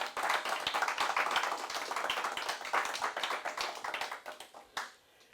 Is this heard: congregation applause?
yes